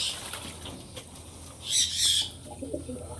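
Pigeons bathing in a water tray, with a short loud burst of wing flapping and splashing in the middle and softer fluttering and a few faint coos around it.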